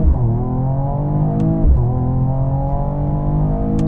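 A Mercedes CLS 53 AMG launches hard in race mode, its engine roaring loud and close with rising revs, a brief dip at a sharp upshift, then climbing again under full acceleration.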